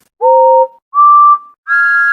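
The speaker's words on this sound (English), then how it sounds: "Whistled all the engines." Three steady steam engine whistle blasts in a row, each a little higher in pitch than the last, loud and clear with short gaps between.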